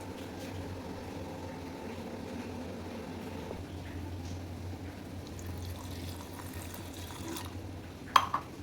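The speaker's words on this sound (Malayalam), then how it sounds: "ആവശ്യത്തിന് വെള്ളം ചേർത്ത് നമുക്ക് വേവിക്കാൻ വയ്ക്കാം." Water is poured into a pot of rasam made with tamarind, a soft, continuous liquid trickle in a home kitchen, ending with a brief clatter.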